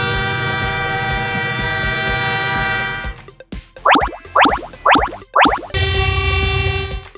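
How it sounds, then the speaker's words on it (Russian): A yellow cartoon train sounds a long sustained horn, then a few short rhythmic springy toots, then the steady horn tone again, loud and alone. "Да, это желтый поезд."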